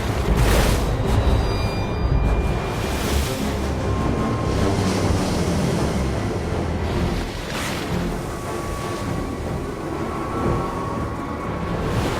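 Heavy storm surf pounds a rocky shore in open ocean, a continuous loud roar of crashing, churning waves with gusting wind noise throughout and no voices.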